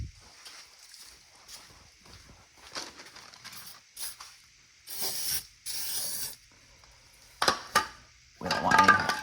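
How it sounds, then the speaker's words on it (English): Short bursts of aerosol spray hiss onto engine cylinder walls during race-week engine prep, several separate loud, close sprays of one to two seconds each, separated by quieter handling sounds. "So we're going to just spray the cylinder walls real quick."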